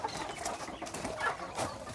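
Hens cluck softly and continuously inside a chicken coop built into a greenhouse in Hawaii at egg collection time, fairly quiet with no talking.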